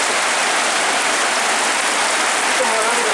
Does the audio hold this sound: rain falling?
yes